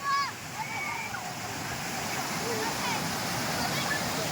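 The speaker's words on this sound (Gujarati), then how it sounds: "બહુ મસ્ત મસ્ત પાણી છે અને ઝરણું બહુ મસ્ત આવેલું જાય છે" A stream pouring below a village dam near a temple, a loud, constant rushing roar of falling water with splashing, plus a brief whistle-like sound near the start.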